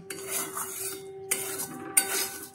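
A spoon scrapes and clinks against a pan while mango is stirred into suji halwa over low flame, a few distinct metallic scrapes and taps, close and moderately quiet, with no talking.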